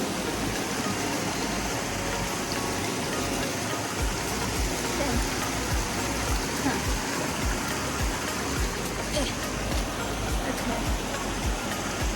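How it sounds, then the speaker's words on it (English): Small waterfall on a creek near Warsaw Falls, New York, giving a constant, close rushing roar of falling water that stays steady and dense throughout with no pauses. "There's another waterfall."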